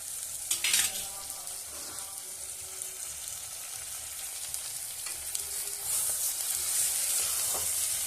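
Tomato with turmeric and chili powder fries for a kada gravy, making a continuous sizzle close by with occasional stirring scrapes, and the frying grows louder toward the end.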